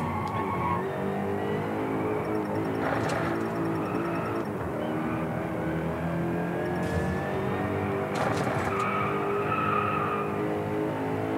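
A car skidding on dirt in the Driveclub racing game, with a continuous engine roar and repeated scrabbling tire slides, loud and close, with short bursts of grit and squeal.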